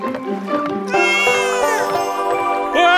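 A cat meows several times in a row, each cry long and rising. The calls are close and loud, with no voices around them.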